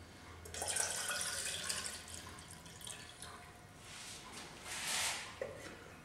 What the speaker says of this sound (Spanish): le voy a agregar 600 de agua a temperatura ambiente